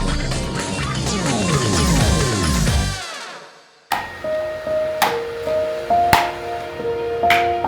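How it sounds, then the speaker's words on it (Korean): After music fades to silence, a hammer strikes a handmade bangjja brass bowl of copper and tin, four loud, evenly spaced blows, each leaving a bright ringing metallic tone that hangs between hits. "수천 수만 번 망치질을 거치며 황금빛 그릇을 만들어내는 사람이 있습니다"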